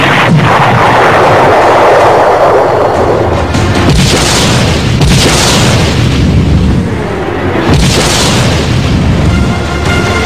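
Submarine-launched ballistic missile from the Indian nuclear submarine INS Arihant, heard as a sustained loud roaring blast with booming surges, continuous and dense throughout without any voices.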